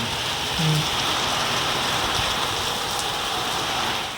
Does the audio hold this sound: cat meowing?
no